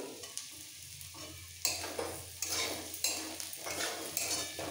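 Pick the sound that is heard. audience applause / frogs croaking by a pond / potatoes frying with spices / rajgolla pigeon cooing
potatoes frying with spices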